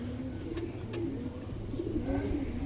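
Foreign racer pigeons cooing in a wire cage, soft repeated low coos close by over a steady background hum.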